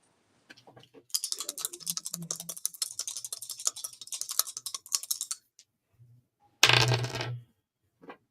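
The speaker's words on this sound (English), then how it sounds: "My dice are probably super loud." Dice rolling across a hard surface make a long run of rapid clattering clicks, then pause before a short, louder burst of rattling and a final faint tick.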